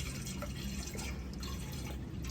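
Coolant being poured into a combine harvester, a continuous close liquid trickle and dribble over a loud, rumbling background, with no clear pauses.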